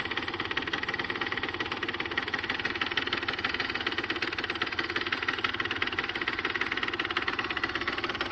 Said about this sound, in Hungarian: Motorhang hibátlan.